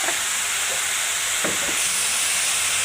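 Sponge gourd pieces sizzle in a pan of fried onions, giving a steady close hiss with a few faint crackles and no talk.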